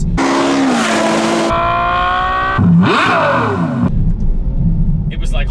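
Ferrari F12 fitted with an Innotech IPE aftermarket exhaust revs hard and loud, its engine note sweeping up and down through several sharp climbs and drops before settling into a lower rumble.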